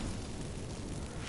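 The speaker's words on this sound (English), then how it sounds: "Get ready for some magic fireworks." Magic fireworks set off by activated incense in The Witcher 3, a steady, dense roaring burst like a sustained eruption, with no talking.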